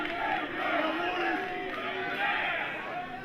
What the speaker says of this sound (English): Crowd loving Booker T behind him every step of the way here.